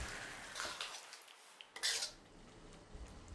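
Chicken and coconut milk stirred in a pan, with a utensil clinking and scraping against the metal in a few scattered bursts over quiet background, close and moderately soft.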